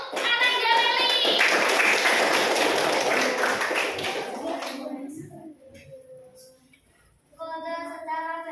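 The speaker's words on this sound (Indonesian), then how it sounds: "Tepuk tangan untuk Ananda Leli." Students clapping in a classroom, a burst of dense applause lasting several seconds that fades out, followed by quieter voices and someone speaking.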